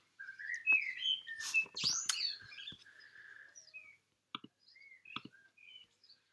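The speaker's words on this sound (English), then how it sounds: "birds seem quite loud today" Birds sing outside an open window with clear, close chirps, trills and whistled phrases, busy for the first few seconds and then sparser, with some clicks.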